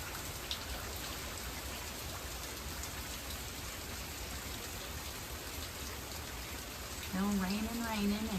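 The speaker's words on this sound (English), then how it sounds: "Still raining, and every once in a while you can see the sheets of rain just falling." Heavy rain from Hurricane Francine pours down in a steady, dense hiss on outdoor surfaces, continuous throughout, with a low tonal hum rising near the end.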